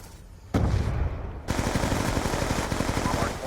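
Rapid automatic gunfire during a Hardpoint match in a first-person shooter game, a loud sustained burst of fast repeated shots after a brief blast, with no speech.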